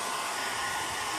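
A hair dryer blower runs steadily, a constant broadband whoosh that stays even and moderately loud for the whole moment, with no voices.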